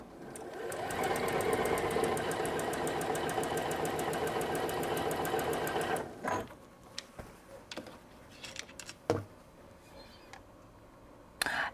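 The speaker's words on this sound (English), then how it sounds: "I just line them up and just keep on stitching." A sewing machine runs fast and steady for about six seconds, chain stitching quilt blocks without cutting the thread, then stops, followed by scattered clicks and light handling of fabric.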